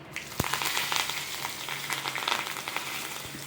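Curry leaves and asafoetida sizzle and crackle in hot oil for an idli sambar tempering, a close, steady frying hiss with sharp pops and some stirring, without talk.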